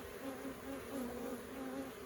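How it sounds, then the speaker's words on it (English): Honey bees fan inside an opened hive in a busy bee yard, giving a dense, steady buzzing drone close to the listener with a faint pulsing hum and no talking. "all these bees are starting to fan, saying, hey, mama's in here"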